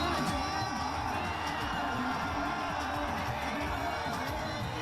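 A large crowd at an Imran Khan election rally in Lahore roars steadily, a dense wall of cheering and shouting voices that stays loud and unbroken throughout.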